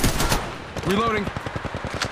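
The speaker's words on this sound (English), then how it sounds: "They're shooting at me." Rapid automatic gunfire in the mobile shooter Apex Legends, a short burst of closely spaced shots pounding loud and near, with a brief electronic whine partway through.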